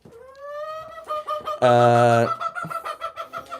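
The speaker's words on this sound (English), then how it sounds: "Come on, chickies. Eat up, Peanut." Chickens cluck and squawk close by, with a long drawn-out call in the middle and shorter clucks around it.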